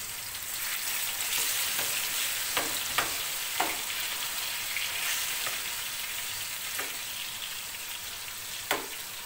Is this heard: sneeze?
no